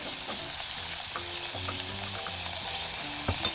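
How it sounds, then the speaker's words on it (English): Pork strips marinated in black soy sauce fry in a pan for Malaysian-style fried noodles, a loud, steady sizzle close by with intermittent knocks and scrapes from stirring. "now it's time to add our pork strips that is marinated with black soy sauce. Give it a good stir"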